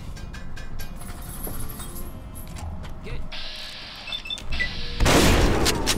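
A shotgun blast in Fallout 3 lands as a broad, loud burst near the end, following a stretch of clicking mechanisms, ratcheting and game effects, with speech-like sound under it.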